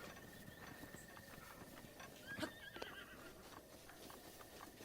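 Wild horses in Zelda: Breath of the Wild whinny and clop over a quiet field ambience, with a louder burst of neighing and hoofbeats near the middle and fainter calls around it.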